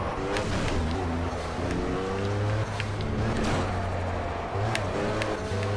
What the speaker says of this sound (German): hört euch mal das Auto an, wie es die ganze Zeit irgendwo aufsetzt